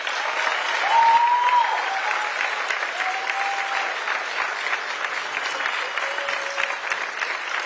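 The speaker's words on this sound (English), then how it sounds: "Can we please have a round of applause for the senior class?" Audience applause for the senior class at a school award night, a steady dense wash of clapping from a large crowd that holds loud and even throughout, with a few faint whistles or cheers rising above it.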